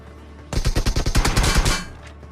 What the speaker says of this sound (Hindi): गोलियां चल गई।